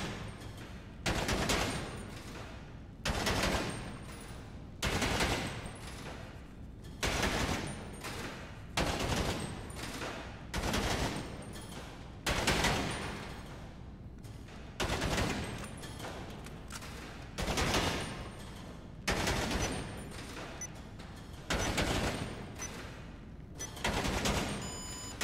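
Rapid gunfire at a shooting range in the video game GTA Online, coming in a regular series of dense bursts separated by short pauses, loud and close, with no voices over it.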